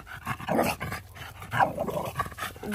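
A dog barking and huffing nearby at a Easter gathering with friends outdoors, a few rough bursts with panting between, fairly close and moderately loud.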